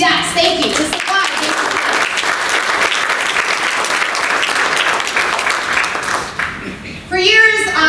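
Audience applause at a recovery conference, a dense steady wash of many hands clapping that holds for several seconds, thinning near the end as a voice speaks over it.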